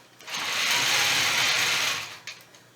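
A sewing machine runs steadily for about a second and a half while free-motion quilting an arrow inside a fabric triangle, its rapid needle chatter loud and close before it slows and stops.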